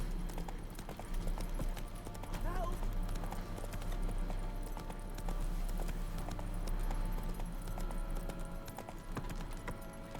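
Roach, the horse in The Witcher 3, gallops with a steady, continuous drum of hoofbeats that sits over a constant game ambience for the whole stretch.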